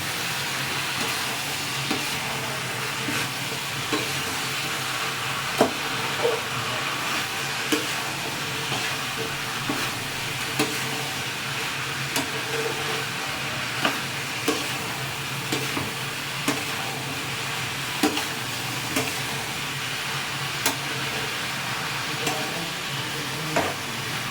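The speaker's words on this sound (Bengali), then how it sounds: "এই লতিটা দিয়ে ভালো করে কষিয়ে নেব। নাড়াবো।" Taro stolons (loti) stir-frying in a pan give a soft continuous sizzle, with faint scrapes and light taps of a spatula recurring steadily throughout.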